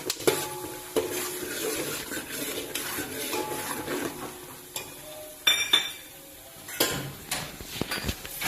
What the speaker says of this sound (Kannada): ಶೇಂಗಾ ಹಾಕಿ ಚೆನ್ನಾಗಿ ಹುರ್ಕೊಳ್ಳಿ